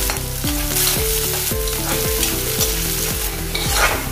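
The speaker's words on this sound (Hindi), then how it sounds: "प्याज को हम चलाते चलाते देखो ऐसे कलर आने तक तेल में फ्राई करने का है।" Onions fry in oil while being stirred, making a bright, continuous sizzle that runs the whole time under background music with a repeating melody.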